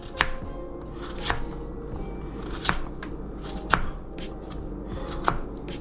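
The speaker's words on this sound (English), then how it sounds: "Just want to cut up your potatoes into small little pieces" A knife cuts potatoes into small pieces on a board, with about six distinct chops at uneven intervals over a low steady background.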